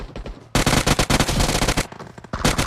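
Rapid bursts of automatic gunfire in the battle royale game PUBG Mobile, loud and close, with dense strings of shots interrupted by short pauses.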